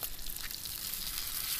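Bacon frying in a pan at a campsite in Red Rocks, Utah: a steady, soft crackling sizzle that carries on alone and unbroken.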